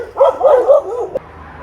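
A dog barks outdoors, a quick run of several yipping, whining barks followed by a short pause and a quieter background.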